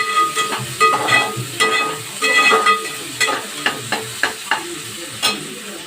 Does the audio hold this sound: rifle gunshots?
no